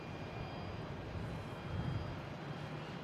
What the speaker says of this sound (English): On 22 left, we have a JetBlue coming in from San Diego,